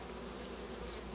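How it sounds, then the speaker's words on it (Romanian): Honeybees crowd a hive entrance, arriving at a water board and carrying pollen, making a steady, dense, close buzz that holds at even loudness throughout with no talking. "iată cum vin albinuții la apă"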